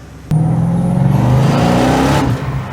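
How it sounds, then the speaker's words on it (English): A classic Mustang's engine suddenly bursts into a loud, rising acceleration, heard close up and steady for a couple of seconds before it eases off slightly. "we're gonna get a drive in this classic Mustang"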